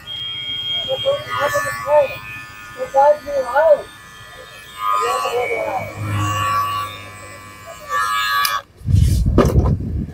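An electric hair trimmer buzzes in short bursts while a barber talks over it, blending a mid-fade haircut, the low hum growing loudest near the end.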